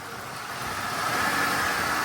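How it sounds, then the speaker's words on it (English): A GM Dexcool engine runs with no misfire, its exhaust note from the tailpipe a steady, smooth broadband rumble heard close up, gently rising in level, with no talking. "Tailpipe sounds good. It's got no misfire."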